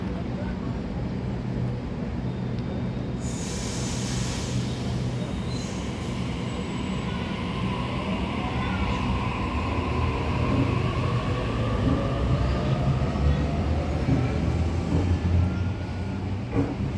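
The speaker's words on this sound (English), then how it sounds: "The train on platform 1 goes to North Sydney via Central." A Sydney suburban train departs platform 1 at Blacktown station, a loud continuous rumble of wheels and carriages with wheel squeal rising as it pulls away, heard close by throughout.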